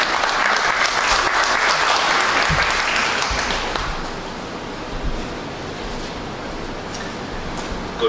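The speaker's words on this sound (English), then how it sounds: "A round of applause, ladies and gentlemen" Audience clapping loudly at a formal event, a dense sustained patter that gradually thins and fades toward the end.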